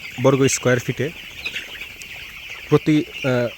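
Broiler chickens huddled together in winter cluck in short, choppy bursts, a few calls near the start and again toward the end, with quiet hissing background in between.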